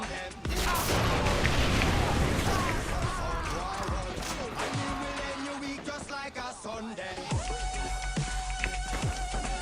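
Grenade explosion and gunfire in the video game Far Cry 3: a loud burst of blasts and rapid shots with crashing debris, then sustained tonal game sound, with a voice talking underneath.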